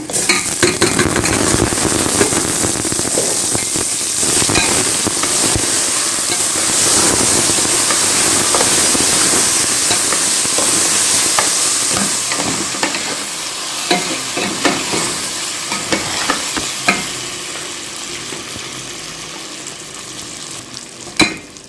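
Rice is stirred and fried with browned vermicelli in hot ghee, a dense close sizzle broken by scraping spoon strokes and clinks against the pot, steady at first then thinning into sparser scrapes, with no talking.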